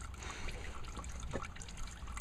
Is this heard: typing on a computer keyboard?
no